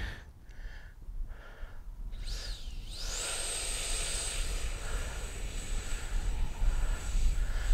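An Arrows RC Marlin 64 electric model plane with a landing gear modification throttles up on grass, a few short bursts, then a rising motor whine that settles into a sustained high tone as it rolls out, with wind rumble throughout.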